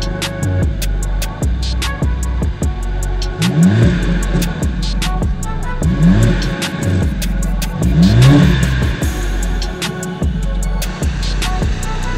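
A powerful Mercedes-AMG CLA45 S engine revs hard and accelerates repeatedly, loud and close, with gear shifts and rising roars throughout.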